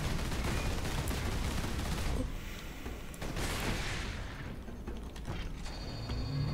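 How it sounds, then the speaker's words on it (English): Turret gunfire in the video game Warhammer 40000: Space Marine, made up of loud, dense rapid mechanical bursts and clatter that ease off midway and then resume, with no voices over it. "Oh, that's a turret."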